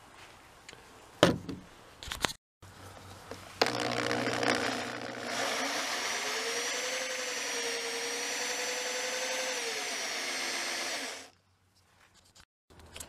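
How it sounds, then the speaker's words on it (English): A power drill boring into wood during a hydroponics build spins up with a loud, steady whine for around seven seconds, its pitch sagging briefly mid-run as it bites, then cuts off, with a few clicks and knocks before and after. "I've already finished drilling"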